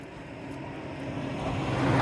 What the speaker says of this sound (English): there was a big truck he wanted to go after